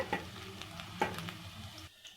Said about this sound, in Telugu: కరివేపాకు, ఆనియన్స్, చిల్లీ, కరివేపాకు కొంచెం ఫ్రై కావాలి ఇంకా